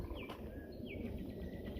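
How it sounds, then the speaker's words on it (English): Brown thrasher singing outdoors on a cool morning, a few clear whistled phrases and chirps at moderate distance over steady background noise, with no talk. "that's definitely a brown thrasher"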